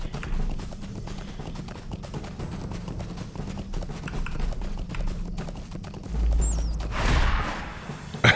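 Horse hooves gallop in the online game Lord of the Rings Online, a steady rapid clip-clop running under background sound, with a louder thumping stretch near the end.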